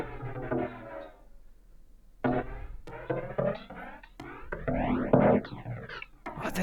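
A snare drum pitched down two octaves and run through the Cesium chorus/phaser plugin, heard as a series of hits with warbling, sweeping metallic tones that rise and fall, close and clear.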